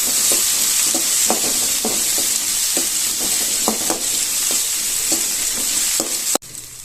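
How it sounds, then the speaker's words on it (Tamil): Finely chopped medium tomato sautés in a pan for vegetable wheat dosai, a constant sizzle punctuated by regular rhythmic scrapes and taps of a spatula stirring, loud and close, cutting off abruptly just before the end. "இப்போ இதையும் லைட்டா வதக்கிக்கலாம்."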